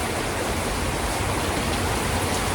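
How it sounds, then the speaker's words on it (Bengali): Heavy rain at dusk on a road already running with water, a loud, dense, steady hiss of downpour with no break and no voices. "ভারী বৃষ্টি, রাস্তায় জল হয়ে গেছে আমাদের।"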